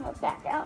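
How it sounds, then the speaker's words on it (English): A pet dog makes odd whiny, yipping vocal sounds, two drawn-out rising whimpers close by, overlapping with a person speaking briefly. "That was my dog making weird sounds."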